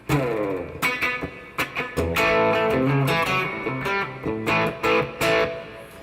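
Electric guitar played through a distortion effect, loud and close, strummed chords and picked notes ringing out with a crunchy, saturated tone in a steady riff.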